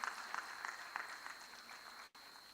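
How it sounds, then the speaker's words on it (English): A round of applause at an African regional maritime conference, thin and fairly quiet, with scattered clapping that fades and then cuts off abruptly near the end, no talking. "Please a round of applause to encourage her."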